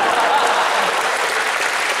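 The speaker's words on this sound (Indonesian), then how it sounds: "Tepuk tangan buat Gunung Berapi" Dense, steady applause from a stand-up comedy audience fills the whole stretch, loud and close, with many hands clapping together and no pause.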